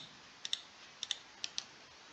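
Repeated crisp key presses on a computer keyboard, landing as three quick pairs of sharp clicks, close and fairly quiet, with no voices.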